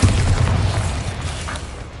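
A Bombarda explosion spell goes off in Hogwarts Legacy, a heavy low boom that hits loudly at the start and slowly rumbles away.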